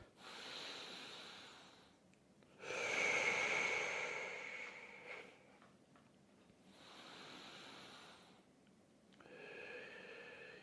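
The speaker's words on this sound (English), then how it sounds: "we'll just go some nice deep breaths" Slow, deep breaths during a seated mindful movement session, with long soft inhales and exhales rising and falling in a calm rhythm, close and quiet with no talk.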